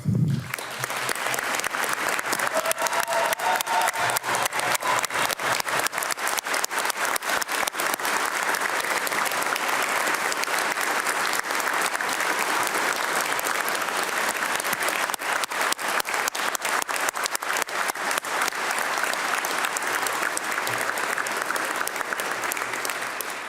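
Sustained, loud audience applause fills a hall during Minnesota's 2022 State of the State address, a dense even roar of many hands that holds steady for over twenty seconds with no talk over it.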